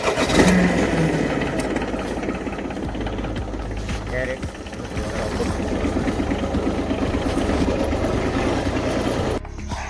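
A farm tractor runs steadily throughout, a mid-pitched diesel rumble with rhythmic chugging, close and fairly loud while loading tomatoes, with a few voices and knocks over it before it cuts off near the end.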